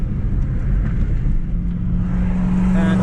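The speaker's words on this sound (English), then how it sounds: "A little bit more on the brakes because you're accelerating at the moment." Car accelerating on a driving track, a steady low engine drone building slightly in pitch toward the end, heard from inside the car at moderate loudness.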